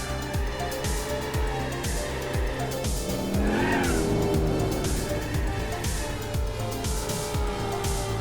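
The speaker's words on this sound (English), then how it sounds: "Easiest way to warm the tires up, really, is just to do a burnout all the way to the first corner." A Buick's tires spin and squeal in a burnout in the Gran Turismo 4 racing game, with a loud, steady engine roar and repeated squealing throughout.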